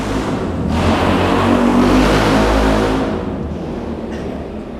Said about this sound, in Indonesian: Ada motor suaranya keras